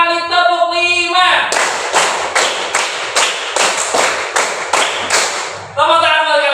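A classroom of fifth-grade students claps hands together in a steady rhythm, about ten sharp loud claps in sequence, with a voice speaking just before and just after the clapping.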